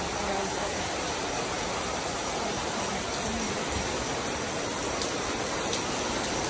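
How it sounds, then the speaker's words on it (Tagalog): Heavy rain pours down in a steady, loud, broadband hiss that holds unbroken from start to finish. "Ulan ng malakas ngayon."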